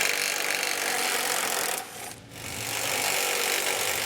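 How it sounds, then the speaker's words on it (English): A power tool drives a 13mm socket to back out bumper beam bolts on a vehicle, giving a loud, steady whirring roar that briefly drops away near the middle before resuming. "We'll remove those both sides with a 13mm socket."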